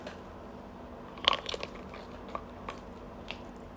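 Biting into a large grilled squid gives a few sharp, close crunches, then softer chewing clicks in a quiet setting with no talk.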